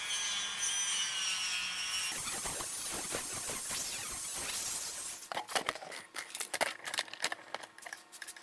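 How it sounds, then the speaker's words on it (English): A disc sander works across a wooden sign, heard as a close, steady abrasive whir that shifts into a series of choppy scraping strokes with squealing edges. "here we got more of a disc sander like that"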